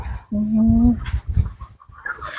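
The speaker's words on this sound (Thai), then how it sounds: "นั่นคือเสียงไก่เซลอยู่" A single loud chicken call rises and holds for about half a second, followed by softer clucks and rustling nearby.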